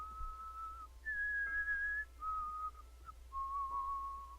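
Eerie melodic whistling in the Enderal game, four sustained, clear notes with short gaps, rising then falling, heard alone over a low steady hum.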